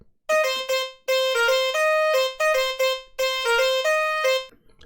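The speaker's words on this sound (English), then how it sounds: "The sound that I want to work on is this lead right here" A bright synth lead programmed in FL Studio plays a melodic phrase of short and sustained harmonic-rich notes in several bursts with gaps between them, loud and alone with no voices.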